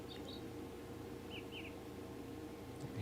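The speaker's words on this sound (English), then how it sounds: "I hear birds." Faint, brief bird chirps sound in the video game The Great Circle, a few short tweets scattered over a quiet, steady ambient background.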